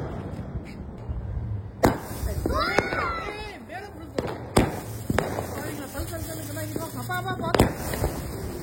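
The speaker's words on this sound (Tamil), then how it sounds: "செம்மையா பறந்து வெடிக்க போகுது" Deepavali firecrackers shoot up with whistling whooshes and burst in a string of sharp, close bangs and crackles, while excited voices shout over them throughout.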